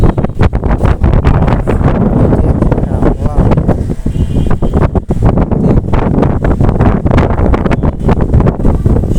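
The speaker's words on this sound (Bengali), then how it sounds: "সেই পরিমাণ বাতাস হইতেছে" Strong wind ahead of a storm buffets the microphone in loud, gusting roars that swell and dip continuously, with a possible faint voice beneath the rush.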